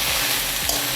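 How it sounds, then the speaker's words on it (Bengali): Eggplant with tomato and green chillies stir-frying in a pan for a Bengali niramish mete alu jhol, a steady broadband sizzle filling the short moment with no talk. "বেগুন দিয়ে 3-4 মিনিট ভাজার পর আমি এবার দিয়ে দেব টমেটো আর কাঁচা লঙ্কা"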